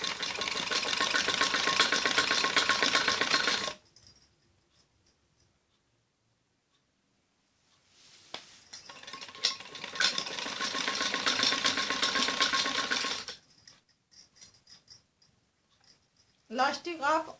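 Sewing machine stitching stretched elastic onto a child's top, running in two long steady bursts with a quiet pause between and a short restart at the end.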